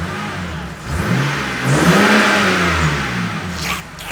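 A BMW E90 328i fitted with a Turner cold air intake revs up from idle, its engine note swelling into a loud, sustained induction roar and then easing back down, close and without any talk.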